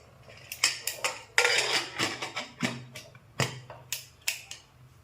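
Pressure cooker lid being fitted on while cooking Khandeshi masala khichdi; a string of sharp metallic clinks and clanks of pots and pans, about a dozen irregular hits, close and fairly quiet.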